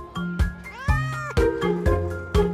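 A pet cat at an airport animal centre meows repeatedly up close, loud drawn-out cries with rising and falling pitch, several in quick succession.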